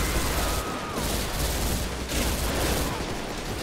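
Dense rapid gunfire in GTA 5, a continuous loud barrage of overlapping shots with brief dips, filling the whole stretch.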